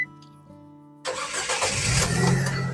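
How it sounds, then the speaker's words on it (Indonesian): A 2011 Nissan Grand Livina 1.5 XV automatic starts up. After a brief quiet hum, the engine catches and settles into a steady, close idle with no talk. "Oke, sekarang kita coba start mobil ya."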